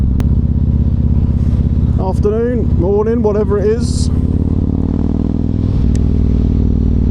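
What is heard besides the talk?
motorcycle engine while riding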